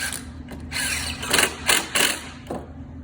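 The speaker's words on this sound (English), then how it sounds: "Screw it together." Parts of a screen frame are screwed together, making rapid ratcheting clicks in several short bursts with brief pauses between, close and moderately loud with no voices.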